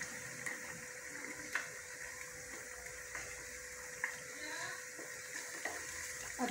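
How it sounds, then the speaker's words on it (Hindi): Chicken karahi cooks in ghee in a wok while being stirred, making a soft sizzle with scattered scraping clicks of the utensil, quiet and close. "इसको मिक्स करते हैं।"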